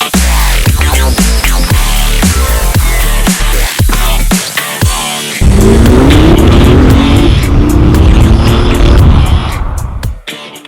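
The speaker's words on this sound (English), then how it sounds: "We're in sport mode, so ooh, that sounds good." A BMW i8 hybrid car in sport mode gives loud engine revs with shifting pitch, followed by a sustained, rising acceleration roar that fades out at the end.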